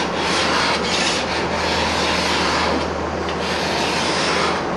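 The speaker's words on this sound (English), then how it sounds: "holding the scraper at a skew, I can see my cut better" A hand scraper held at a skew shaves across a wooden surface, a loud, close, steady rasping scrape that runs unbroken with no talk.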